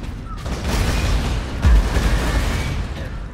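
Gunfire bursts in the Space Marine multiplayer video game, loud and dense with a rumbling rattle of shots, a heavier boom near the middle, under continuous battle noise.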